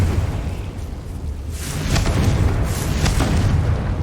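A Confringo fire spell explodes in the video game Hogwarts Legacy, giving a loud, deep boom that swells and rumbles with several bursting pulses over a few seconds.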